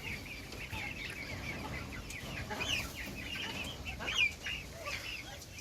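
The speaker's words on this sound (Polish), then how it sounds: "Tu jest aż 20 kurczaków" Several Pekin bantam chickens cluck and chatter softly nearby, with scattered short calls overlapping against a low outdoor background.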